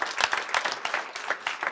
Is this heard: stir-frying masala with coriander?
no